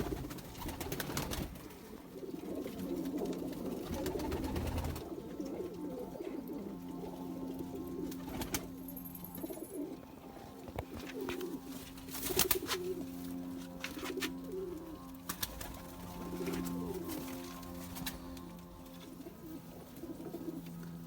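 Male Zeera pigeons, black Zeera birds, coo steadily in a low, rolling drone that continues across the whole stretch, with a few louder bursts and wing flutters standing out over the murmur.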